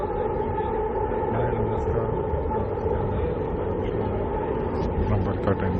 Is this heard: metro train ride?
yes